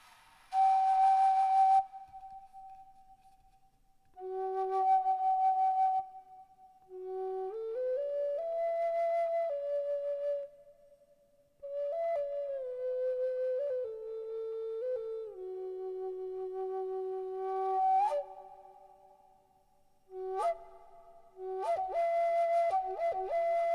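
A slide flute played with reverb glides through a wandering, spooky melody of swooping and sliding pitches, phrases separated by brief pauses, clear and alone.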